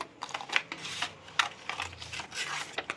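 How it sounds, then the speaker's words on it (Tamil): Scissors snip through fabric to cut out a curved bonnet pattern, a quick run of close, crisp rasping cuts and rustles in an uneven rhythm. "பார்த்திங்கன்னா இந்த கர்வி கரெக்டாக வர மாதிரி கட் பண்ணுங்கள்."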